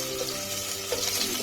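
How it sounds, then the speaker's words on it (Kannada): Chopped onions go into hot coconut oil with popping mustard seeds in a pan, making a steady, close, broadband sizzle with a faint watery crackle throughout and no talking. "ಅದಕ್ಕೆ ಈರುಳ್ಳಿ ಹಾಕೊಳ್ಳೋಣ. ಸ್ವಲ್ಪ ಫ್ರೈ ಮಾಡಿಕೊಂಡು"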